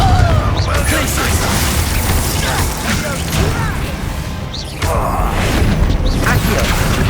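Fiery Confringo spell blasts in the video game Hogwarts Legacy, a dense, loud stretch of crashing, booming impacts and mechanical rattles with a brief dip mid-way, mixed with game sounds and a voice.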